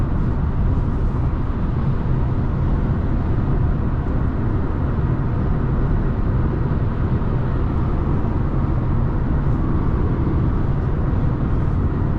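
Steady cabin road noise inside a Chevy Spark while driving, a dense low rumble and tire roar holding constant and fairly loud with no talking.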